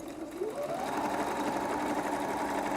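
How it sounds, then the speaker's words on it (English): A sewing machine stitches a fabric bag, closing up a hole near the edge, its motor running up to a steady, continuous whirring drone that holds at an even pace from start to finish. "I'm just going to stitch that hole up."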